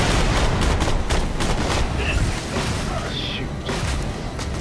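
Rapid bursts of enemy gunfire in Borderlands: The Pre-Sequel fill the scene, loud and dense. Repeated shots crackle over a constant mix of game noise.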